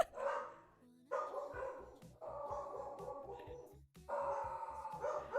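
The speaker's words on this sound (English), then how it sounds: "One of them is a beagle, so that's the screaming in the background you might hear." Beagle barking and yelping in bursts in the background indoors, with other dogs nearby, the sharp repeated yips and howls rising and falling over several seconds.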